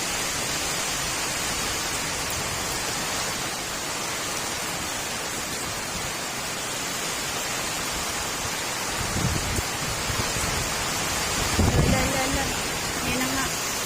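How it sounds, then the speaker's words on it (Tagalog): Strong wind roars steadily with rain noise, a broad rushing wash throughout, with a few louder gusts or bumps near the end. "Lakas ng hangin."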